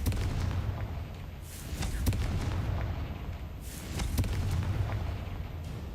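Repeated Confringo fire-spell blasts in Hogwarts Legacy, several booming bursts a couple of seconds apart over a rumbling game background, with a voice talking faintly in between.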